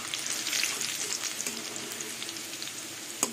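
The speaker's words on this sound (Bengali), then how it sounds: "এবার রসুনের কাঁচা গন্ধটা চলে যাওয়া অবধি খুন্তি দিয়ে নাড়াচাড়া করব।" Crushed garlic sizzles in a pan while being stirred with a spatula, a close, steady crackling fry with light scraping and one sharp clack near the end.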